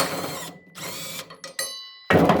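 Impact driver loosening the blade bolt on a Toro Timecutter mower deck, blade held underfoot: a few loud, short mechanical bursts with gaps between them, close by, no talk.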